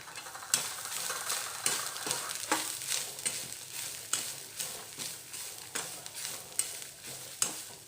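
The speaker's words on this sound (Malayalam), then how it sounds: "ഇനി ഇതിലേക്ക് നാളികേരം ഇട്ട് കൊടുക്കുക" Grated coconut fries in a pan with a steady low sizzle while a spoon stirs it in regular scraping strokes about twice a second, close and clear.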